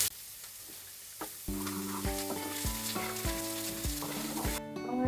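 Onion hits hot oil for a prawn curry and erupts into a bright, continuous sizzle that stays strong throughout, with music playing underneath.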